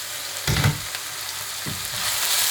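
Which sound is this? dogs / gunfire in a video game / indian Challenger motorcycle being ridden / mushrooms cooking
mushrooms cooking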